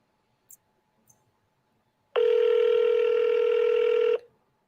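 An outgoing call to a seller rings on the line as a single steady electronic tone that lasts about two seconds, preceded by a couple of faint clicks, with no one speaking.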